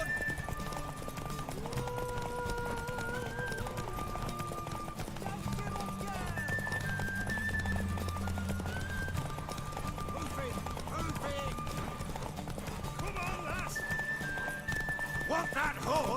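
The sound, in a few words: horse galloping and neighing in The Witcher 3 video game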